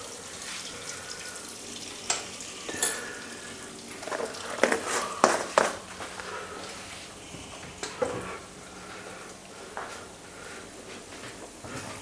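Besan roasting in desi ghee in a pan for sheera gives a soft, low sizzle broken by scattered scraping and clinking of a spoon stirring, fairly quiet and close.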